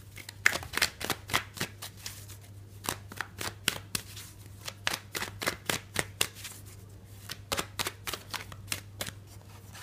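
Tarot cards shuffled by hand, heard up close as a steady run of crisp, rapid flicking snaps over a faint low electrical hum.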